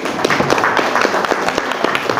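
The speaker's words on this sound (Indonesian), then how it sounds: "Tepuk tangan untuk kita semua." Audience at a school visit claps in a moderately sized, uneven round, with distinct individual claps audible throughout.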